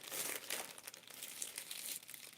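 A plastic package is crinkled and torn open by hand, with steady close crackling and rustling and no talk.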